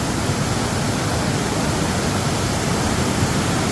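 Devkund waterfall pours down in heavy rain, a dense, unbroken roar of rushing water filling the whole soundscape at close range, steady and loud with no voices.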